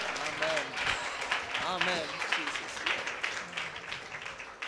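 A church congregation at a revival meeting claps along under loud ongoing speech, a steady wash of hand claps filling the background throughout.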